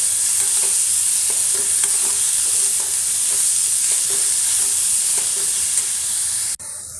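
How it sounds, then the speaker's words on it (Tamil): Ginger sautéing in a pan for ridge gourd peel chutney gives a steady hiss and sizzle, punctuated by faint intermittent taps of a spatula stirring, ending with an abrupt cut. "இஞ்சி கொஞ்சம் போட்டுக்கலாம் அந்த பச்சை வாசம் போகிற அளவுக்கு நல்லா வதக்கிட்டுறணும்"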